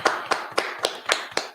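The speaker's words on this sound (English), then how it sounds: "Everybody clap it up" A small gathering claps along at a class, producing six or seven evenly spaced claps in a steady rhythm at moderate volume with no talking.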